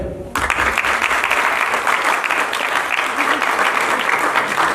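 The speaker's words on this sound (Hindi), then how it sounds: "पर जोरदार तालियां इनके लिए।" An audience at a stage play breaks into loud, sustained applause that starts abruptly and continues evenly, dense clapping from a crowd filling the space, with no speech over it.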